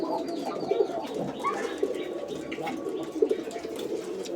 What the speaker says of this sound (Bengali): এই গোল্লা কবুতরগুলো বিশেষ করে প্রচুর পরিমাণে ডাকে